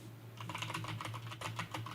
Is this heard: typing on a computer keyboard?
yes